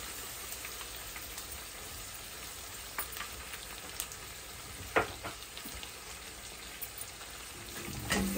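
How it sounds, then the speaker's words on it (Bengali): Onion paste and chili fry for butter chicken, a faint steady crackling sizzle with a few sparse pops and light clicks, quiet and even throughout. "পেঁয়াজটাকে মরিচটাকে আমি একটু ভেজে দেবো, একটু 1 মিনিটের মতো।"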